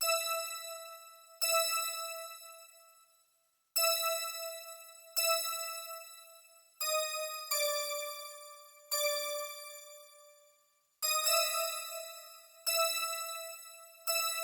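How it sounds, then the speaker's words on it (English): Bell synth tones from a Roland JV-1080 D-50 stack preset strike one after another in a loose melodic pattern, each ringing out and decaying, clean and alone. "I use JV 1080 and I use the D50 stack preset, a bell"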